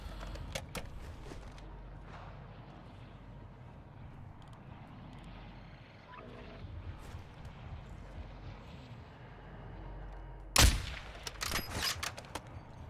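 Scattered bursts of gunfire sound in Call of Duty DMZ over a droning aircraft-like background, ending in a loud crack and a quick flurry of shots.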